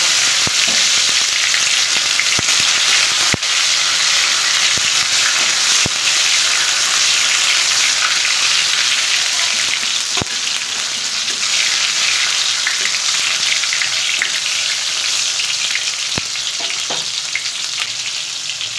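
Chopped tomato fries in a pan with black cumin seeds for a ridge gourd and poppy seed dish, giving a loud, steady, dense sizzle throughout with occasional sharp crackles and pops.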